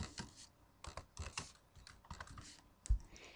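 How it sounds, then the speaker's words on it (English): Keys clatter on a computer keyboard as a new folder name is typed, a quick irregular run of close, crisp clicks with short pauses and one sharper keystroke near the end. "and then again selecting Enter on your keyboard to accept the changes"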